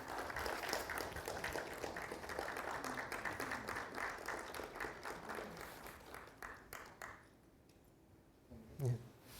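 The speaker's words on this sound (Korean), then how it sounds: "큰 박수 부탁드리겠습니다." A crowd applauds at an award ceremony during an industrial engineering society's autumn conference. The clapping is dense and steady, then thins and fades out, leaving near-silence broken by one brief thump.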